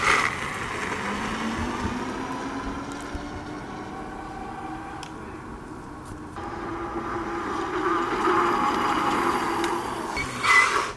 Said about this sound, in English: Definitely the fastest e-bike I've ridden